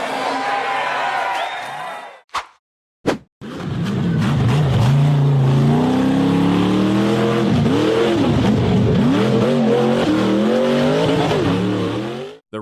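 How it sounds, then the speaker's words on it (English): An off-road 4x4 buggy engine revs hard at full throttle while climbing a steep hill, a loud sustained roar with rising and falling pitch sweeps after a brief quiet start, with a faint crowd in the background. "The off-road vehicle accelerated and hurtled straight up the sheer cliff."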